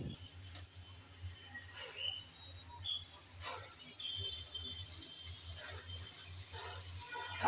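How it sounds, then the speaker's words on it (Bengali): Pointed gourd being stirred and fried with spices in a pan, faint light sizzling with soft scraping and clinking of a spatula in irregular bursts, close but quiet. "পটলগুলো দিয়ে ভালোভাবে নেড়েচেড়ে মশলার সাথে কষিয়ে নেব"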